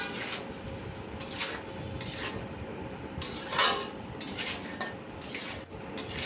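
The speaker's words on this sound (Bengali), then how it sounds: "সবজির সাথে মশলাগুলো ভালো করে কষিয়ে নেব" Mixed vegetables with salt, turmeric, coriander and chili powder are stirred in a pan, a utensil rasping and scraping in repeated strokes over a soft frying hiss, close and with no talking.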